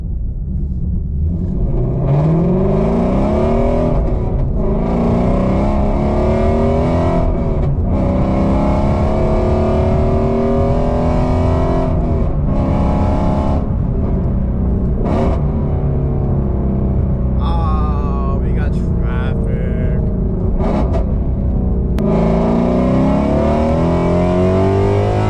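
An Audi R8 driving and accelerating, its engine note rising in repeated pitch sweeps through the gears with sharp shift breaks and a busy stretch of higher whines near the end, loud and close throughout.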